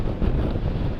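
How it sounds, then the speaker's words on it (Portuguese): Strong gusting wind buffeting the microphone outdoors at a motorcycle test ride of a Honda NX500 and CB500X, a loud low rumbling roar filling the whole second without speech. "Dá uma ventania do caraças para um gajo vir aqui fazer um test ride."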